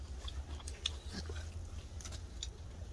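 Grilled beef intestines with scallions, cooked over a winter wood fire, are chewed close up, giving soft wet bites and faint crunches over a low steady rumble, with no talking.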